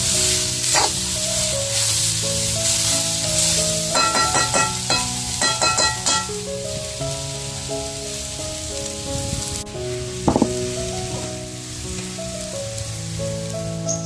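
Taklyachi bhaji, sickle senna greens, sizzles steadily as it is stir-fried in a pan, with a continuous crackling hiss and a few scraping stirs beneath background music.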